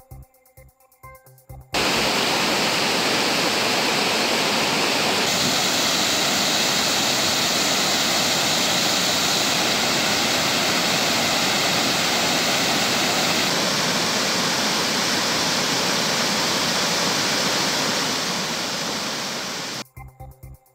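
The flooded Kumbakkarai waterfall roars with a dense, unbroken rush of heavy water that runs loud and steady for most of the clip, with no voices.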